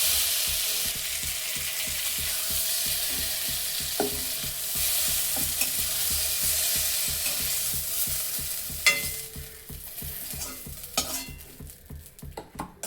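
Pointed gourd fries in a pan with a steady sizzle, while a utensil stirs and scrapes in a regular rhythm. Sharper clinks and knocks come near the end.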